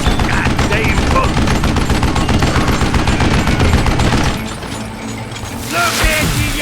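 Fast, loud gunfire in the Wild West game Call of Juarez: Gunslinger for about four seconds, then a quieter stretch with mechanical clicking like a weapon reloading, before a voice and more sound return.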